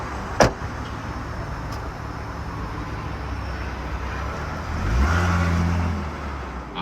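A BMW 330i E46 with its engine running, heard from inside the car as a low steady idle rumble, a sharp click near the start, then a swell as the engine revs briefly before settling.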